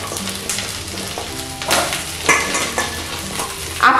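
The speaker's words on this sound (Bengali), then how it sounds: "সবজিগুলো আমি কড়াইয়ের মধ্যে দিয়ে দিচ্ছি।" Chopped drumstick, plantain, carrot and sweet potato drop into a kadai of frying spices, setting off loud bursts of sizzling over a steady frying hiss, with stirring clatter close by.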